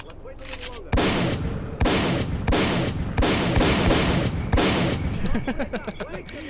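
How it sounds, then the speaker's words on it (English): Heavy shotgun blasts fired at snorks in S.T.A.L.K.E.R. Clear Sky, about six loud booming shots spaced roughly a second apart, each with a ringing tail and scattered lighter noises between. "We're shredding these snorks with the shotguns."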